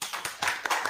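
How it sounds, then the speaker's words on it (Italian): Applause at an award ceremony of the Foreign Press in Italy, where Osimhen and De Laurentiis are honoured: a few bursts of hand clapping in one second, fairly close and moderately loud, with no talk over them. "l'applauso"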